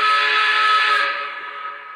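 A Lionel PRR Tuscan K4 model train's steam whistle gives one sustained, breathy blast close by, its airy hiss thinning slightly toward the end.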